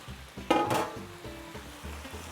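Fresh summer vegetables and their juices tipped into a pot of salmon and shrimp fish stew, a loud splashing drop followed by a steady close sizzle and gentle bubbling.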